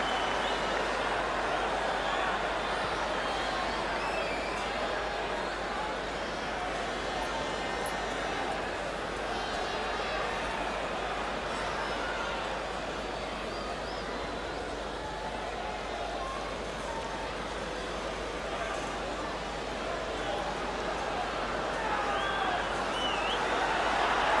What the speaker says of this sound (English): Crowd urging England to even greater efforts